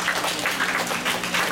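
A short burst of audience applause for a correct quiz answer at a community association gathering, dense rapid clapping from a room of people with a low hum beneath.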